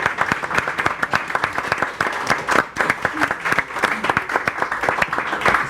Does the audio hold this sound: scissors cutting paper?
no